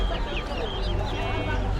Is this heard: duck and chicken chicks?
yes